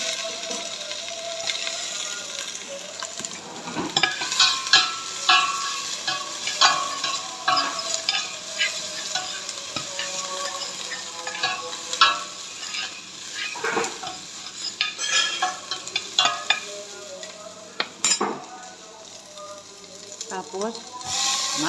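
Onion sautéing in a small amount of oil, an ongoing sizzle with frequent clattering stirs and scrapes of a utensil against the pan, close and fairly loud, with some background voices now and then.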